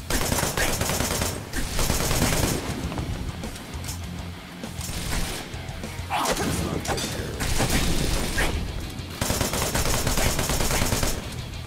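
Gunfire from the action game Wanted Dead, loud, dense automatic bursts with booming impacts that run almost without a break, pausing only briefly before the firing picks up again.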